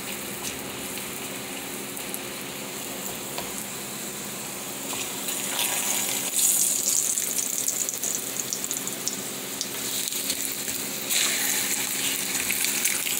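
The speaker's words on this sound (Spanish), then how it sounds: "Vamos a dorar las tortillas aquí." Tortillas frying in hot oil for mole, a steady soft sizzle that swells louder midway and keeps crackling evenly close by, with no voices over it.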